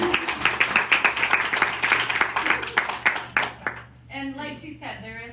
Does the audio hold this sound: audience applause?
yes